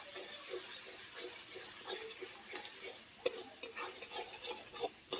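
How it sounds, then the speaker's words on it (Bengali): Spice masala with sour yogurt sautéed in a pan, a soft sizzle beneath rhythmic stirring scrapes and a few sharper utensil knocks, close but fairly quiet. "টক দইটা দিয়ে আরেকটুখানি কষিয়ে নেবো"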